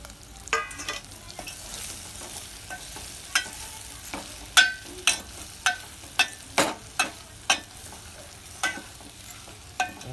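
Potatoes being stirred into masala in a pan for batata bhaji, a run of distinct scraping, clacking spoon strokes in a quick steady rhythm over a soft sizzle, close and clear with no talking.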